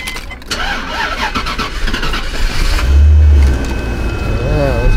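A Bentley's engine cranks and turns over, settling into a steady running rumble, with people talking nearby.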